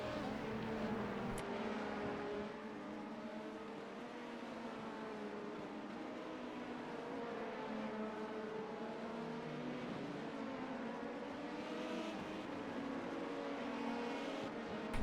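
Race car engines in an IMSA racing video game hold a steady, sustained drone, the loud continuous whine of nearby cars running at pace with little variation.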